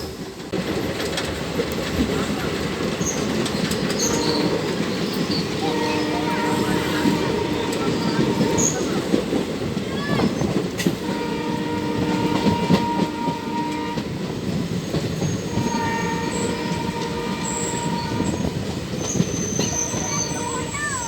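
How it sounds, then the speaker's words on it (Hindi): A passenger train, the 05335 Kashipur–Kasganj service near Ramganga station, rolls loud and close around a curve, with a continuous rumble, wheel clatter and recurring high wheel squeals from on board. "रामगंगा स्टेशन अब करीब आ चुका है और हमारी गाड़ी कर्व पर मुड़ रही है।"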